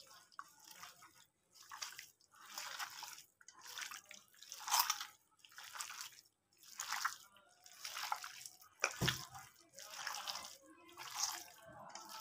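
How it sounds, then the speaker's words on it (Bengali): Wet, squelching bursts come from hands working mustard oil and spice marinade into mutton pieces. They repeat about ten times in a steady rhythm, close and moderately loud, with short quiet gaps between them. "তো এরপর এই সব কিছুকে আমি মাংসর সাথে ভালোভাবে মাখিয়ে নেব।"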